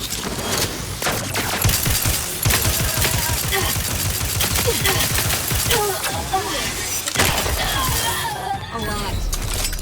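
Rapid automatic gunfire from The Outer Worlds 2 rattles on in dense, close bursts for most of the stretch, joined by shattering impacts and clipped in-game voices.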